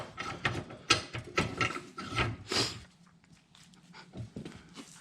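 A part on an antique toolbox is cranked tight with a ratcheting tool, giving a close run of rapid clicking bursts, loud at first and then quieter and sparser.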